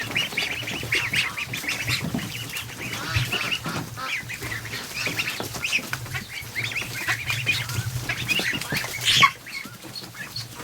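Geese and ducks honk and quack steadily in a barn as ducklings are moved in, a busy chorus of overlapping calls filling the space with a louder burst near the end.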